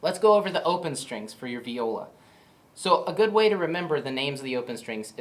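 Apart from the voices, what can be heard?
None of the usual background noises is heard.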